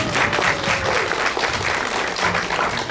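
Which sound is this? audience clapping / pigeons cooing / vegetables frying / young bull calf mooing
audience clapping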